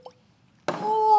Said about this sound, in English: It's got a good cork pop.